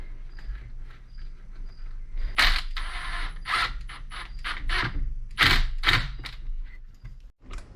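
Hose clamp being fitted onto the upper radiator hose of a 2003-2008 Dodge Ram during a water pump replacement, with a series of close metallic clicks, scrapes and snaps over a low background hum.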